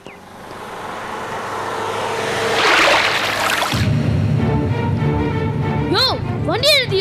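A car moves through a scene of tense, heated confrontation, with continuous engine and road noise that builds to a peak midway, while loud overlapping voices argue near the end.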